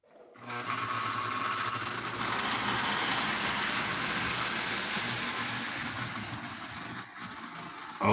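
An O scale model train runs on its track, giving off a loud, steady whirring rumble that holds evenly for several seconds before briefly dipping near the end.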